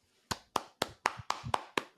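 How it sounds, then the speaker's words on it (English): A slow hand clap: eight crisp, evenly spaced claps about a quarter second apart, close and alone. "Slow clap"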